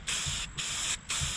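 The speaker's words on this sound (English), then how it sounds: "so I can just spray it from afar" Carpet dye is sprayed from a distance onto the faded carpets of an Italian sports car, in three short, close hissing bursts separated by brief pauses.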